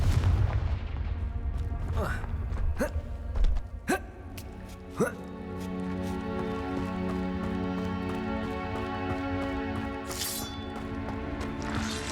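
Confringo blasting spell cast in Hogwarts Legacy: a few sharp explosive bursts in quick succession near the start, then a steady droning game ambience carries on.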